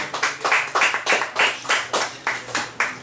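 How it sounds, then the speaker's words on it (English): A small audience claps in a rhythmic, pulsing pattern at a comedy show, each burst of hand claps rising and fading roughly every third of a second, close and fairly loud. "Give her a round of applause, Granny."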